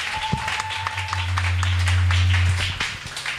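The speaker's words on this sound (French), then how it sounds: "Est-ce que je peux attendre une acclamation là-bas?" Church congregation at a Kinshasa service cheering and clapping, a broad wash of applause and voices swelling to a peak mid-stretch, with a sustained low organ or keyboard drone running underneath.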